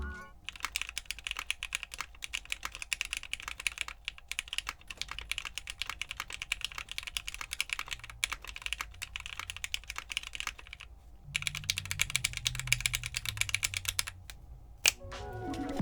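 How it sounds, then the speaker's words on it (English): Rapid, continuous typing on a mechanical keyboard with Gateron X switches, lubed with 205G0 and filmed, giving soft, muted clacks in a dense rhythm and a short pause near the end. "Here's a quick typing test after I lubed with 205G0 and filmed with desk key films."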